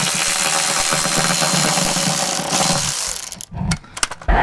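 A power tool loosening the last oil sump bolt on a Honda Civic EF, a loud, steady mechanical whir close to the microphone that stops abruptly near the end, followed by a few clinks.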